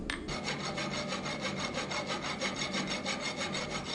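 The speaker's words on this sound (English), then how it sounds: "I cut off the excess material and use my rasp to clean the edges and remove any forge scale." A rasp files the forged steel edges of a viking axe, giving rapid, rhythmic scraping strokes that stay steady and close for the whole stretch, with no talk.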